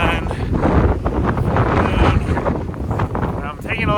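Strong Santa Ana winds buffet the microphone near Palmdale, California in a steady, roaring rush that fills the whole clip, loud and close, with gusty surges.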